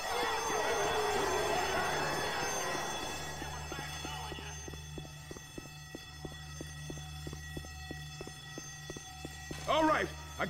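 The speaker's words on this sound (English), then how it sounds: "Here comes the alarm." A car alarm blares in Left 4 Dead 2 during the Dead Center mall level, a loud pulsing electronic wail that starts strong and fades into repeated rhythmic beeps, with game noise and a brief shout near the end.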